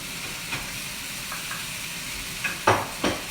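Risotto rice added to a pan and stirred, with a steady hiss of frying and a few scraping stirs growing more distinct toward the end.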